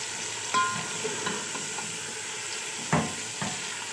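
Tomatoes, green chillies and dried plums being stirred into masala in a pan, with a soft steady sizzle under a few distinct scraping stirs, two of them louder knocks of a spoon.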